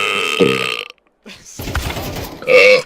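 A man burps loudly and repeatedly, with a long throaty belch, a short silence, then a rough stretch that blends into laughter or talk before a final forceful burp close to the microphone.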